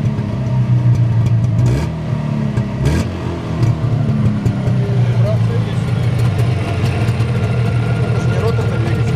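A Jawa 640 two-stroke twin with used, freshly honed cylinders idles steadily during running-in, its right cylinder smoking more. A constant mid-pitched engine drone holds close and loud throughout, with brief surges and voices nearby.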